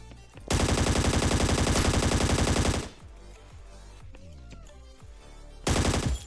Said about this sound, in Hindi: स्टेडियम की साइड से कुछ मेरे को गन साउंड आ रहे थे